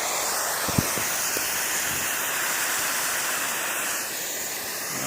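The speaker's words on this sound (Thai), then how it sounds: "น้ำพุ่งเลย" Water gushes hard from a groundwater plumbing pipe beside a fish pond after valves are closed, a loud, steady, close hiss and rush with a few knocks early on.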